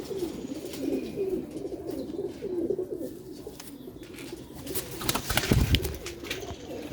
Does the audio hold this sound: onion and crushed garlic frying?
no